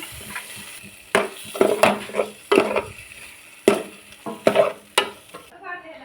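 Chopped sausage pieces stirred in a sizzling frying pan, with a utensil scraping and clacking against the pan in uneven strokes over a steady low fry; no talking.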